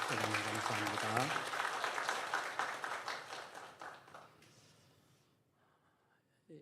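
A church congregation applauds together in a dense burst of clapping that thins out and fades to near silence, then a voice starts to speak at the very end.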